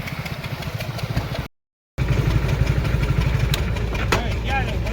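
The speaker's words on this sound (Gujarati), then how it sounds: "આપણું ઠેસર ને ટ્રેક્ટર હાલે" A tractor engine drives a thresher, chugging in a steady rhythmic idle close by with a brief cut in the middle, while someone talks over it.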